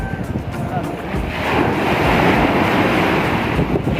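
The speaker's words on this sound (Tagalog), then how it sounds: "Wow, dagat." Broad rushing surf from sea waves, swelling louder after the first second and holding steady, with wind buffeting the microphone.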